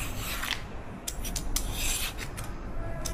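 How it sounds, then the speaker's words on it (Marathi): Peeler scraping the skin off a cucumber for Konkani cucumber idli, heard up close as repeated short rasping strokes over a steady background hiss, with no talk. "पळय तेचे सोल काडटा पळय."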